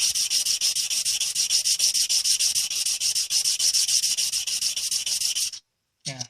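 Rhythmic back-and-forth rubbing of 600-grit sandpaper on a stainless steel name necklace, close and steady strokes for several seconds before stopping abruptly, followed by a brief scrape.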